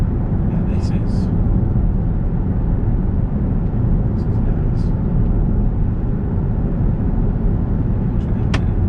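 A tri-turbo BMW X5 M50d xDrive diesel SUV cruises on a test drive, a steady, loud low rumble of engine and road noise inside the cabin with brief faint sounds on top.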